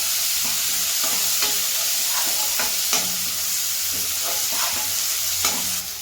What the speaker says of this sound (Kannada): ಚಟಪಟ ಅಂದಿದ ತಕ್ಷಣ ಈರುಳ್ಳಿ ಹಾಕೋಬೇಕು. Full ಬಾಡಿಸ್ಕೊಬೇಕು guys.